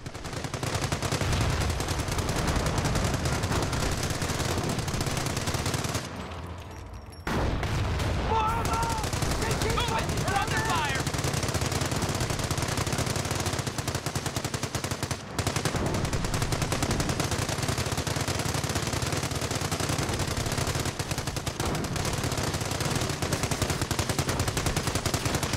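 Gunfire in the World War II strategy game Company of Heroes during the battle for Hill 192, dense machine-gun bursts and rifle shots rattling almost continuously with a short lull early on, game voices occasionally over it.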